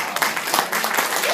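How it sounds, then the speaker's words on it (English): Brief burst of clapping from a small group at a 90th birthday party, lively and close, with voices mixed in. "Let's clap for that."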